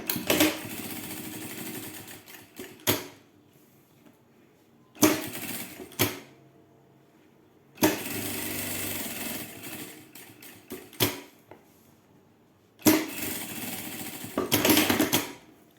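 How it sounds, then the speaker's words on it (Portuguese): A sewing machine runs a safety seam along the edge of a pocket on a fabric wallet, stitching close by in several loud bursts of a few seconds each, with quiet pauses between them. "vou ir na máquina passar uma costurinha de segurança"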